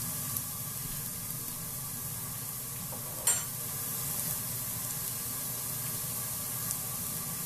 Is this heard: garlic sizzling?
yes